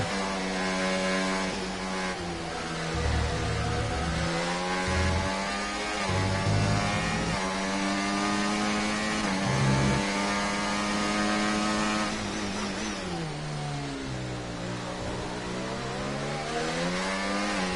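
A Formula One car engine in the F1 23 racing game screams at high revs for the whole stretch. Its pitch rises and falls with gear changes and drops back under engine braking, loud and steady.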